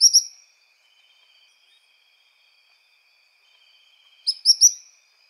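Suiriri bird song: two short bursts of high, bright chirps, one at the start and one near the end, with faint thin calls between them against a quiet background.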